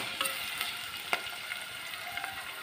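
Onion and green chilies fry in hot oil with a soft, even sizzle, dotted with a few light stirring taps and clicks, fairly quiet and close.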